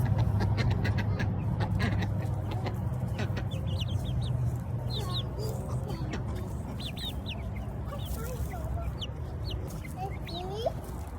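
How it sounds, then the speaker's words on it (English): A flock of chickens clucking and murmuring nearby, with occasional higher squawks over a steady outdoor background. "Let's go check on the chickens."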